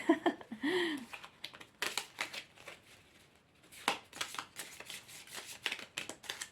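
Heart-shaped cards being shuffled by hand, with rapid papery riffling and flicking bursts that come in uneven clusters, close and fairly quiet, broken by a few short pauses and one brief vocal sound near the start.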